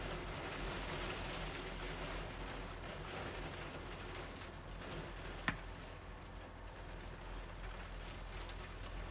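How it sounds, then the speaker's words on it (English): Steady broadband patter of rain, continuous and moderately loud, with a single sharp click partway through. "Sorry about the rain if you can hear that."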